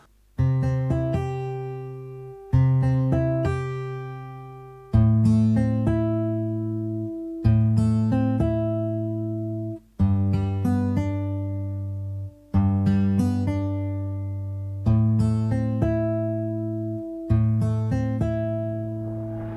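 Clean plucked chords from a virtual guitar plugin repeat in an even loop, with about eight identical phrases spaced a couple of seconds apart, played alone.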